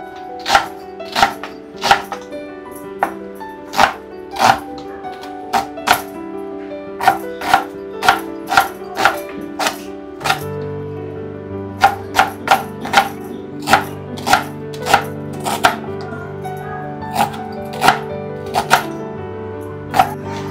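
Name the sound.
chopping onion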